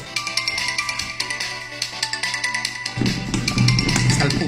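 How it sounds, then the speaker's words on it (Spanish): A mobile phone ringtone plays a loud, rhythmic musical tune during a class, pulsing steadily for several seconds before a low hum swells under it. "Cuando le suena el teléfono a la profesora"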